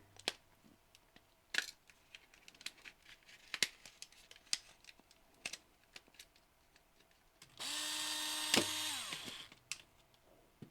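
Screws being removed from the bottom plate of an original Nintendo DS console: sparse small metallic clicks and ticks of a screwdriver, then a loud steady whirring burst for about two seconds, likely a power screwdriver.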